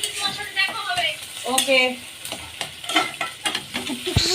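Chilies and dried fish frying in a pan, with stirring scrapes and light sizzling under a voice speaking close by.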